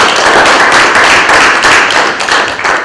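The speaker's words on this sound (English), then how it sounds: "Let's give him a round of applause this morning." Audience at a community coffee meeting applauding after a facilities presentation, dense, steady hand clapping close by that carries on throughout before tapering slightly at the end.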